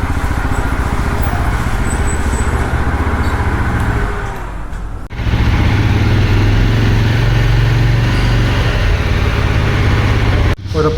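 A Yezdi Roadster motorcycle engine idles steadily on its stand with a low, rapid putter, briefly dipping before resuming louder; faint voices mingle in the background.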